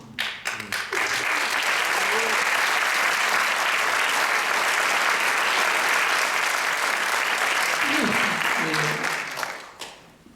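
Sustained loud applause from a conference audience fills the room for about ten seconds, rising quickly and fading at the end, with brief speech at the start and near the close.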